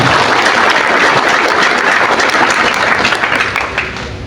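An audience applauding during a Patriot Garuda Nusantara gathering, a dense, loud wash of many hands clapping steadily before thinning slightly at the end.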